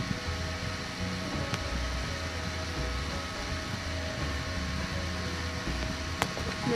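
An electric fan runs inside a homemade incubator heated by two light bulbs, giving a steady close whirring hum with a low drone and two faint clicks, no voices.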